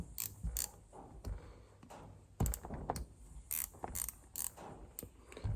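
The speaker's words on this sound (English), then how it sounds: "so we'll take this inspection plate off. It's just a 5/16 spanner." Close, quiet metallic clicks and ratcheting from a 5/16 spanner undoing the inspection plate bolts on a seized CAV rotary injection pump from a Ford 3000 engine, irregular bursts of small mechanical clatter.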